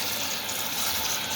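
A toilet tank refills after its supply is turned back on, following a flush valve seal replacement: a steady, close broadband rush of running water that holds at an even level throughout.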